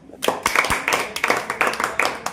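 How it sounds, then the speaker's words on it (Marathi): Children clap their hands in a quick burst of scattered claps. The claps are close and fairly loud, with a few voices in the background. "टाळ्या वाजवा."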